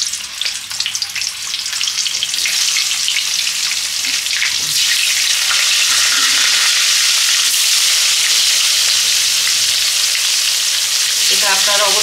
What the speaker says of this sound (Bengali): তেলটা আমার গরম হয়ে গেছে, হলুদ দিলাম। এবার আমি একটু আলুটা ভেজে নেব।